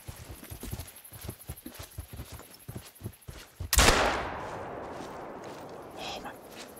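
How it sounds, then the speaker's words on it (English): In theHunter: Call of the Wild, during a buffalo hunt on Vurhonga, soft rhythmic thumps lead up to one sharp, loud rifle shot that rings out with a long echoing tail, while a voice talks at points. "how many shots was that? One, two, three, four, five, six, seven shots!"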